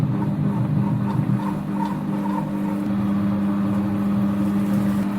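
A Compact Cook Elite food processor runs at speed 3, its motor giving a steady, loud whir with a strong constant hum that holds evenly throughout, without voices.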